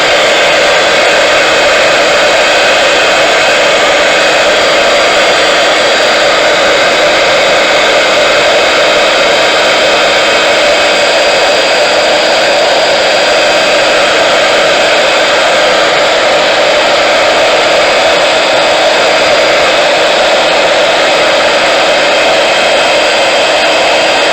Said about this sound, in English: I do have to remind myself not to heat emboss on that mat.